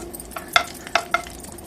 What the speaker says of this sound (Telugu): ఇలా బెల్లం అంతా కూడా కరిగించుకోండి.